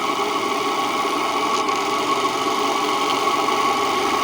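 Renovated steam engine aboard a steam boat running at speed, a steady, dense mechanical hum and churn that holds level and close throughout with no voices.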